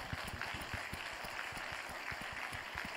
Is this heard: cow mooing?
no